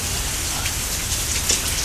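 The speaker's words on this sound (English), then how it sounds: "Playing in the rain." Rain falls steadily in a dense, even hiss of drops on surfaces, close and constant with no voices.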